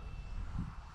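The electric motor of an Arrows SZD-54 RC glider, flown on a windy day, makes a faint, steady, airplane-like whir for about a second against wind noise.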